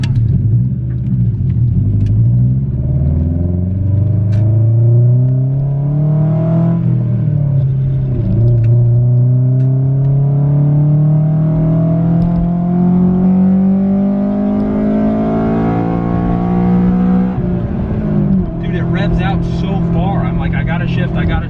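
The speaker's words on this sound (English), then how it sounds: "Was only gonna hit VTEC one more time, but I've hit it multiple times now." A 2000 Honda Civic Si EM1 engine revs up repeatedly into VTEC, its pitch climbing in long, steady sweeps with a brief dip before rising again; loud and close, with no other sounds competing.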